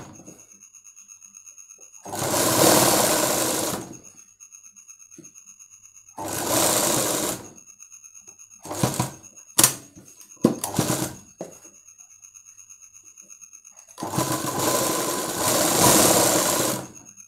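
A tailor's sewing machine stitches piping onto a blouse in three long whirring runs. Several short stop-start bursts fall between them, over a faint steady hum.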